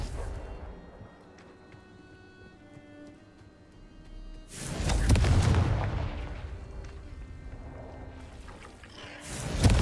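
A loud, booming blast from the Confringo spell in Hogwarts Legacy bursts out after a quiet stretch, roars and fades, and then a second explosion hits at the end, over a low game ambience.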